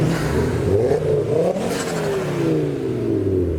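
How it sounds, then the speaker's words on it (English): Audi RS5 Cabriolet V8 revving at a supercar rally start line, a loud continuous engine roar with rising and falling pitch sweeps, mixed with other car engines nearby. "we've got the V8 of the Audi RS5 Cabriolet making some noises"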